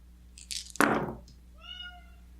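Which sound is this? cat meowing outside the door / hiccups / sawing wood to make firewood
cat meowing outside the door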